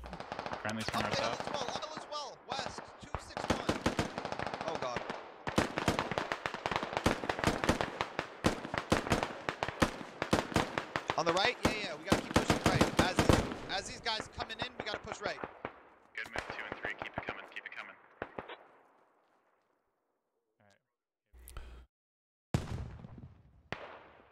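Rapid automatic gunfire and explosive pops crackle in dense bursts during a SquadOps tactical shooter match, thinning to scattered shots and brief silences near the end, with voices talking over the action.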